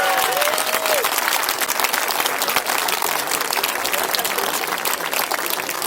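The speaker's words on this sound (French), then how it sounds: "allez on applaudit" A crowd at an outdoor celebration for the christening of a giant festival figure gives Pierre steady, dense applause that fills the scene from start to finish, with a brief whistle near the start and loud clapping throughout.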